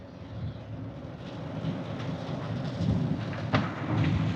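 Rain falling outdoors: a steady broadband hiss with a deep rumbling undertone that swells gradually, plus a brief sharper crackle partway through, with no voices present.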